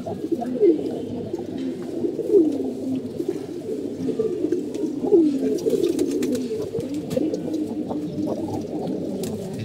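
A red-gear Babu pigeon coos in repeated soft, throaty phrases a few seconds apart, close by with light background noise.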